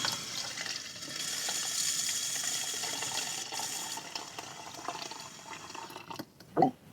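Water running steadily from a tap, a soft continuous hiss and trickle that fades near the end, followed by a brief clunk as it shuts off.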